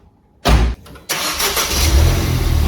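A Ford Fiesta ST MK7 engine cranks and catches after a short silence, drops briefly, then settles into a loud, steady close-up idle with a slight rise in revs.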